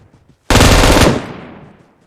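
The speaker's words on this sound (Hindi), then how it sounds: "यहाँ पे तो बोट फायर कर रहे थे" Gunfire from bots on the Livik map in PUBG Mobile, a loud, close burst of rapid automatic shots lasting about half a second, then trailing off into a fading echo.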